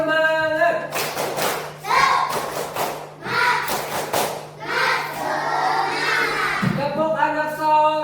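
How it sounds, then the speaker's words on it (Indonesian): Students standing in a classroom perform a rhythmic group clapping chant, bursts of sharp claps in patterned beats alternating with shouted chanted lines, loud and close, with a teacher's voice at the start and end. "tepuk semangat"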